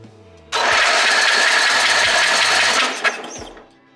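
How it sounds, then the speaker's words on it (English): A starter motor cranks a Murray wide body riding mower engine, a loud, steady whirring spin that runs about two seconds and then cuts off, followed by a brief clank. "The starter obviously spins pretty good."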